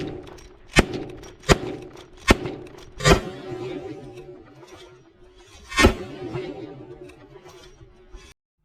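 A Rossi R92 Triple Black .44 Magnum lever-action rifle fires five loud, sharp shots, spaced unevenly and each trailing off in a short echo, with a quieter knock near the end.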